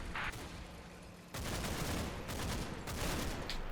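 Gunfire in the World War II video game Combat Mission: Battle for Normandy, including a bolt action rifle shot, heard as sustained crackling shots and rumbling battle noise at a distance, faint and continuous.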